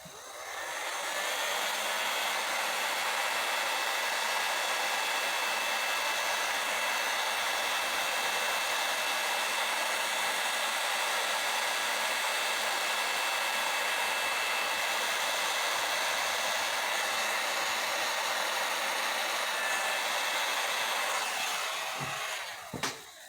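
A hair dryer or heat gun blows steadily on epoxy resin for about twenty seconds, a loud continuous whooshing whine that cuts off near the end.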